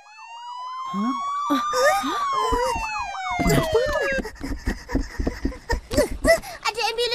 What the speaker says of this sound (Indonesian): Ada ambulans ke rumah tu.